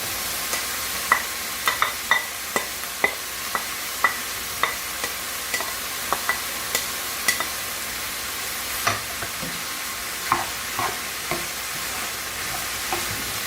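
Mushrooms fry in a pan while being stirred with a utensil, a steady soft sizzle broken by frequent sharp scraping clicks at an irregular pace.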